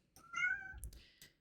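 A cat gives a single clear, close meow, a short rising-and-falling call about a second long followed by a faint chirp, alone in a quiet room.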